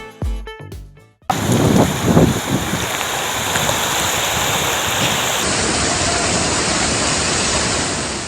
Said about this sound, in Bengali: বাঁধ ভেঙে হু হু করে পানি ঢুকছে জনপদে